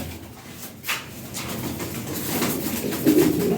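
Lahori Sirazi pigeons cooing softly at close range, low murmuring coos running steadily through the clip with faint rustling and background noise.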